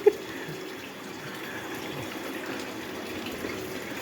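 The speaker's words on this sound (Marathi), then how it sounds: "आपण पाणी टाकीत भरत आहे" Water runs steadily from a tap into a household storage tank, a continuous soft splashing gush that stays even throughout. It is fairly quiet, with no one speaking.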